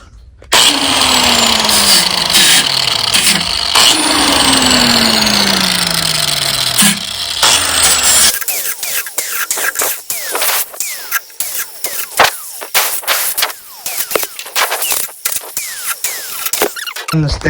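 Metalwork on a 1970 Mercury Cougar car door mirror mount: a loud whirring tool spins up and winds down twice, then spot welding follows as a run of close, crackling, sputtering bursts.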